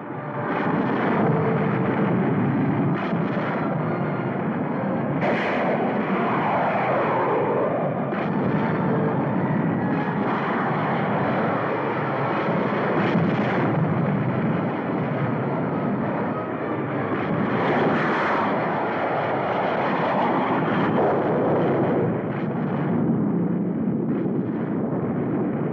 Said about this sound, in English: Enemy jets attacking dam.